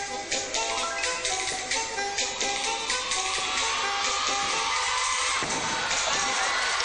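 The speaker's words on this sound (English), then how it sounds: "the crowd are ecstatic at her appearance" An arena crowd at the 2000 European gymnastics championships cheers for a gymnast in a dense, continuous roar of voices and whoops that holds loud throughout.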